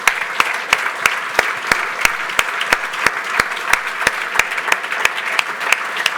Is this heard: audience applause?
yes